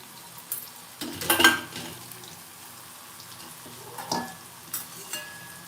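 Crushed garlic chutney hits a pan of kantola curry, a few wet sizzling bursts and scraping spoon strokes at close range, separated by quieter stretches.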